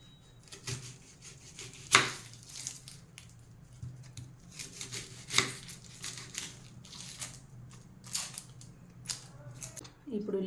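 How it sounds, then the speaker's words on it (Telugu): A knife slices onions into thin, long strips for a Karnataka-style onion Manchurian. The crisp cuts come irregularly, some sharp and pronounced, with quieter rustling between them and faint background noise. "ఇప్పుడు ఉల్లిపాయలు సన్నగా పొడవుగా కట్ చేసుకుందాం."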